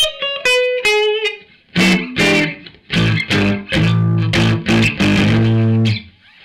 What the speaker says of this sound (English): Sound like a Fender twin reverb without the distortion and without the reverb.